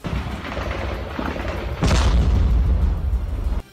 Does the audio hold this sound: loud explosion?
yes